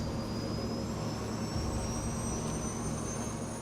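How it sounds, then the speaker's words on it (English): Jet engines of a Santa Bárbara Airlines airliner roar steadily during its takeoff run and liftoff, a loud, continuous wash of noise with a high whine that slowly climbs in pitch. "The plane lifts off, less than 3 minutes after it started to taxi."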